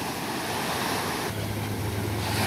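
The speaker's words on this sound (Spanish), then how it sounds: "Buenas olas, mira nada más." Ocean surf at the beach at Carrizalillo, Puerto Escondido, during a children's surf contest: a constant broad wash of waves with wind rumble, loud and steady, with a low hum joining partway through.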